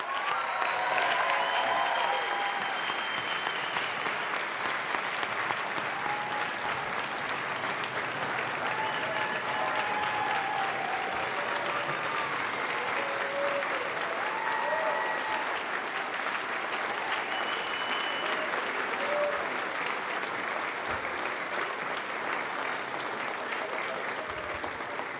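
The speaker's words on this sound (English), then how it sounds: "Let's give them a big round of applause." An audience gives sustained, even applause for a graduating class of NASA astronauts, a dense wash of clapping lasting the full stretch, with scattered cheers and voices underneath.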